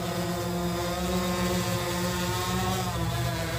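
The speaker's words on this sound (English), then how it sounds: "The drone is kind of loud." A DJI Phantom 4 Pro V2 quadcopter drone whirs with a loud, steady propeller buzz, close by and unbroken throughout, with no talk.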